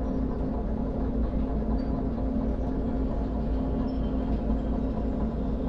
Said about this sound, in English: It's quite a long train, so the back end of it's only just starting to come through